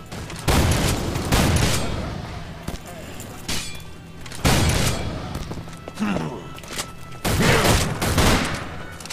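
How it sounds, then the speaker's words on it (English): Akimbo guns in a video game fire rapid bursts: three loud volleys of fast shots with pauses between them, and voices talking underneath. "Akimbos, you shoot fast enough that it just you're gonna lay waste everything."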